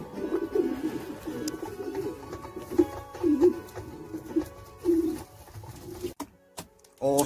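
Pigeons coo softly and repeatedly in a loft with young birds, a low throaty burbling close by, with light shuffling and a few sharp knocks near the end.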